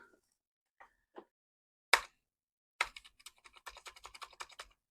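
Typing on a Commodore 64 keyboard in need of repair: a few isolated key clicks, then one sharp clack, then a quick run of crisp keystrokes, close and alone in an otherwise quiet room.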